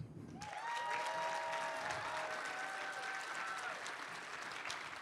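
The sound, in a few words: audience applause for a new staff member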